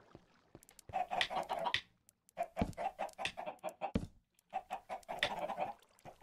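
Chickens cluck and squawk in bursts near their coop, fairly close, with short pauses between runs of calls and no talk.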